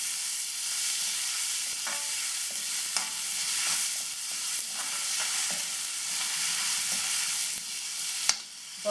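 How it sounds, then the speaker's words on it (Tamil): Onions sauté in a hot pan with a continuous bright sizzle, punctuated by frequent light spatula scrapes and taps and one sharper knock near the end. "அதுக்கப்புறம் வந்து நம்ம வெங்காயத்தை சேர்த்து இது வந்து ரொம்ப வதங்கணுங்கிற அவசியம் இல்லை"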